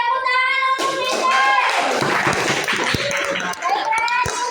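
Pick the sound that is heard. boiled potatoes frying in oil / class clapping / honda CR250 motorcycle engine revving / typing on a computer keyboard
class clapping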